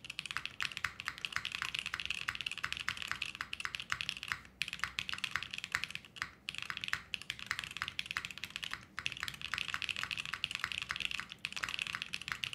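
Steady, close typing on a custom-built mechanical keyboard, with bright rapid key clacks and occasional spacebar presses in a continuous rhythm, no talk.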